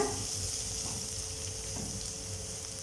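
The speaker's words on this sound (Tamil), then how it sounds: "நான் இப்போ இதில் கொஞ்சமாக முட்டைக்கோஸ் மட்டும் ஃபைனாக கட் பண்ணி சேர்த்துருக்கேன். ஸோ இது லைட்டாக ஒரு நிமிஷம் மட்டும் நல்லா வதங்கணும்." Finely chopped cabbage sautés in a hot pan for Gobi Manchurian, giving a steady, close frying sizzle that holds at an even level throughout, with faint stirring touches and no voices.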